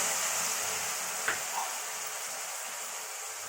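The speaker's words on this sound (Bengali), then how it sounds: "পেঁয়াজটা ভাজা হয়ে গেছে, এবার আমি মশলাটা দিয়ে দিচ্ছি। বেটে রাখা মশলাটা দিয়ে দিলাম।" Ground spice paste sizzles in a pan of fried onions for a spicy fish curry, a steady soft frying hiss with one or two brief clinks, moderately quiet and with no talking.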